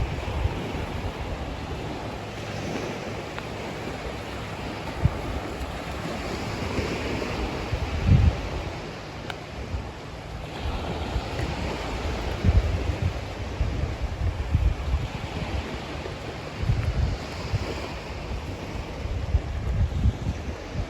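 Surf rolls in at a Florida Gulf Coast beach under steady wind, a continuous washing roar with gusty microphone rumble and periodic swells of breaking waves, no voices.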